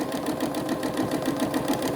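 A sewing machine stitches fabric at a steady speed, its needle producing a fast, even mechanical chatter with a rhythmic pulse, close up and without talk.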